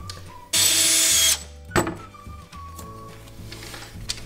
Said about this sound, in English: we've just drilled a pilot hole through both sides of the cabinets at the bottom